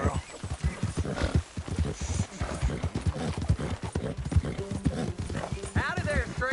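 Horse hooves clip-clop steadily in Red Dead Redemption 2 gameplay, a close, even rhythm of hoof strikes on the ground running under constant talk from game characters.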